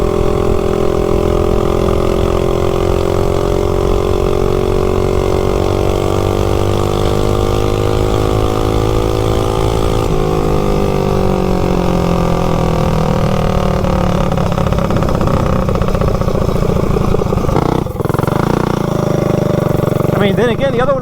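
A GTS mini bike engine fitted with a new cheap clutch runs loud and steady close by, its droning pitch rising and falling as it revs, with a brief dip near the end.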